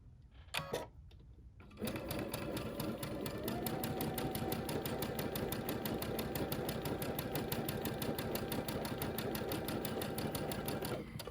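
A sewing machine stitches Tula Pink butterfly quilt pieces. After a couple of brief starts it settles into a long, steady, close whirring run.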